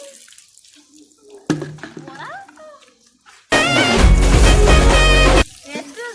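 Water gushes loudly for about two seconds as a toy water cycle is filled, with voices talking before and after the pour.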